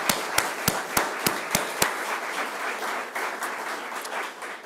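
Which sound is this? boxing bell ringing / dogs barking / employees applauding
employees applauding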